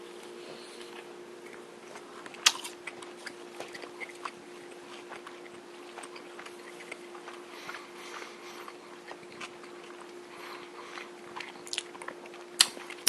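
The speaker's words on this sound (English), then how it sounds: "I'm going to take another bite and see if I can taste the ham" An egg and Black Forest ham sandwich being bitten and chewed close up, with soft, irregular crunches and mouth sounds over a steady low hum, and no talk.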